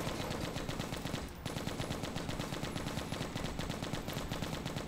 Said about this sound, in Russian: У нас пулемет.